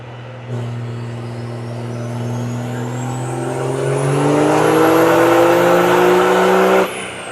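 A 5.9 Cummins third-generation diesel pickup on a dyno revs up hard, its loud, close engine drone rising steadily in pitch for about six seconds before cutting off abruptly.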